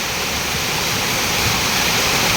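Floodwater driven by Typhoon Aghon pours in through an opened roll-up door, a loud, continuous rushing roar with no break.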